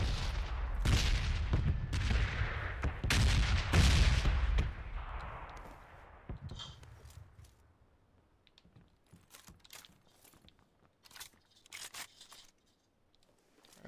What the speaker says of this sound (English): I found a heavy machine gun, dude